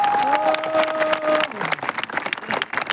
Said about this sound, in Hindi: ताली बजाओ तो ढंग से।